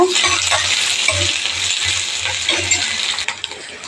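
Curry leaves fry with onion for masala kolambu, a loud close sizzle with rhythmic stirring scrapes and low knocks, tapering off at the end.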